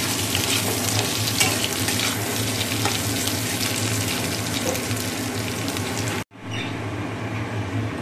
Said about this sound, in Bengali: আলুগুলো একটু ভেজে তুলে নিচ্ছি